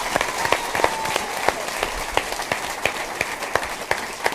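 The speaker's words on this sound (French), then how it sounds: "applaudis les autres une dernière fois." An audience at a theatre show claps in sparse, uneven applause, individual sharp claps standing out at irregular intervals rather than forming a dense roar.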